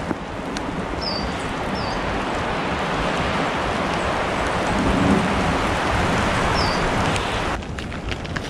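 Steady rain falling through wet woods, a dense continuous hiss of drops on leaves and ground, close and even throughout with no voices.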